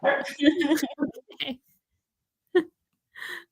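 A dog gives a few sharp barks and yips between bursts of a person's speech, close by and separated by short silences.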